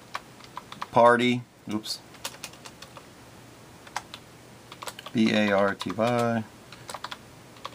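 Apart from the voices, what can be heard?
typing on a computer keyboard into a spreadsheet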